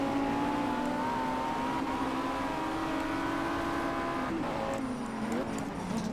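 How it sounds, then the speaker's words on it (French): Brakes squeal in a high, sustained whine over the steady drone of a racing car's engine in Project Cars, with a brief sharper screech near the end. "On entend bien siffler les freins."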